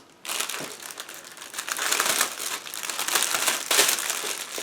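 Thin plastic bags holding the sprues of a 1/72 scale S-300PM/PMU missile system model kit crinkle and rustle continuously up close, with louder crunchy bursts as they are handled, no voices.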